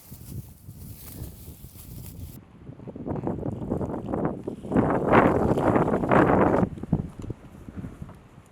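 Gusty wind buffets the microphone on a hot, windy opening day of turkey hunting season on farmland in Kansas, with low rumbling roars that swell and build into louder blasts before easing off.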